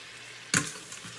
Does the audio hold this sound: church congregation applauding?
no